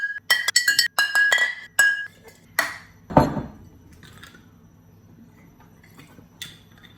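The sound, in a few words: glass bottles clinking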